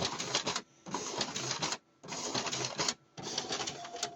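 A Lexmark printer scans documents through its document feeder in loud, steady mechanical whirring bursts, four runs separated by brief pauses, close and without talk.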